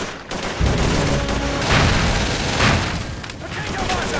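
Mortar fire and explosions on a Call of Duty 3 battlefield, heavy booming blasts and crackling gunfire rolling loud and close in a dense, continuous barrage with shouting voices mixed in.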